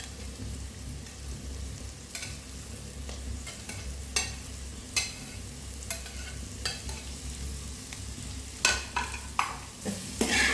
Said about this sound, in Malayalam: ഇനി ഇത് നന്നായിട്ടൊന്ന് ഇളക്കി യോജിപ്പിച്ച് കൊടുക്കുന്നുണ്ട്